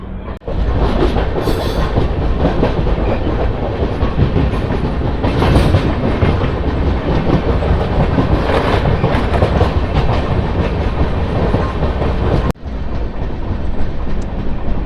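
The Janmabhoomi Superfast Express, running from Lingampalli to Visakhapatnam, rolls along the rails with a loud, steady rumble and rhythmic clickety-clack of wagon wheels, continuous and close for the whole stretch.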